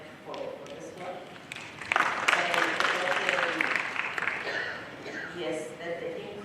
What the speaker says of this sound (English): I think we need a clap for this one.